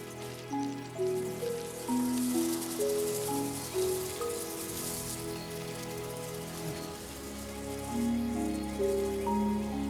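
Seasonal rain falls steadily at the end of a dry season, drops pattering on surfaces in a continuous close wash, with no voices.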